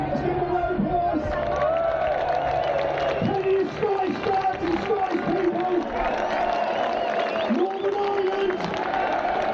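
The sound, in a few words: crowd applause and cheering at Parliament Square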